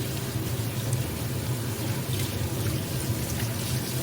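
Lettuce being rinsed under a running kitchen tap, a steady close stream of water with a continuous hiss and a low splashing hum that never lets up.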